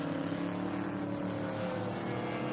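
A Corvette race car at an SVRA vintage event at Mid-Ohio, its engine a loud, steady drone with a slight pitch drift as it runs by on the track.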